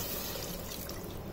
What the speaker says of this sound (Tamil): மிக்ஸி ஜார் கழுவி வச்சுருக்கேன், அந்த தண்ணியை ஊற்றி நான் வந்து மட்டனை வேக வச்சுக்கலாம்.